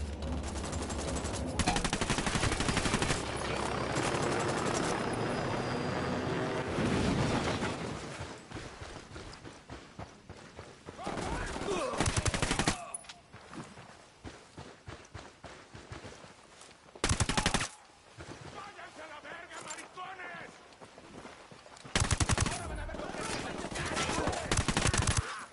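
Bursts of gunfire from the video game Ghost Recon Wildlands, with loud sustained volleys in the first half, then short sharp repeated bursts separated by quieter gaps, with faint speech in places.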